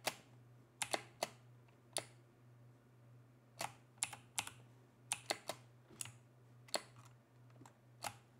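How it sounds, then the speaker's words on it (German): A mechanical computer keyboard clacks in sparse, irregular keystrokes and short clusters, close and crisp over a low steady hum, with no talk. "Und dann die mechanische Tastatur, ey, die haut so rein."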